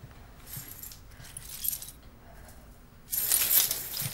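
Keys jangling in short bursts, close and crisp, with a louder metallic rattle near the end and no talk over it.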